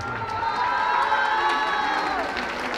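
Guests at a quinceañera party clap and cheer loudly, with high shouts and whoops over steady clapping that stay constant throughout.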